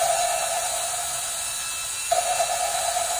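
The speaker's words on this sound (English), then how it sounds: "As the pitch goes up, you're actually pressing out some of the lapping compound." An engine valve is spun against its seat with lapping compound, making a steady gritty whirring hiss. The pitch shifts slightly partway through, with a few faint clicks near the end.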